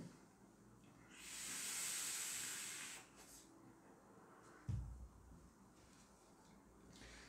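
An electronic vape fired with a Ni80 coil producing a thick cloud gives a steady, fairly loud hiss lasting about two seconds, followed by a soft thump and low background noise.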